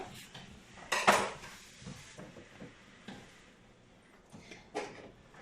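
A metal saucepan clanks down onto a stovetop with a sharp clatter, followed by faint scrapes and a soft hiss as it heats, in a quiet kitchen.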